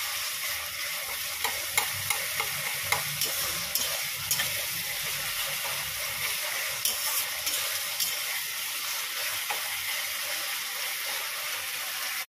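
Pointed gourd with poppy seed cooks in a pan, a constant close sizzle broken by regular light scraping taps of a spatula as it is stirred.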